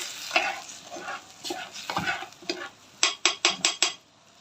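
Tomatoes and spices stirred in a pan for a Turli chicken tray bake, utensil scraping with a soft sizzle, ending in a quick run of five sharp metallic clinks against the pan.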